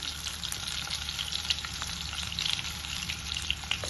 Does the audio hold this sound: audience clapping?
no